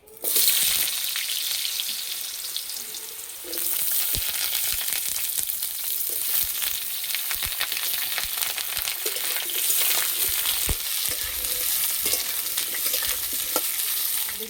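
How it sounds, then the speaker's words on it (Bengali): Potatoes dropped into hot mustard oil in a wok already used for eggplant hiss into a loud, continuous fry, swelling after a few seconds, with scattered stirring taps and clinks. "এই তেলের মধ্যে আলু দেব।"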